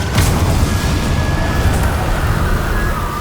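A Confringo blasting spell goes off in Hogwarts Legacy, a loud sustained boom with a rumbling low-end roar and a bright crackling onset that carries steadily through the whole moment, no talk over it.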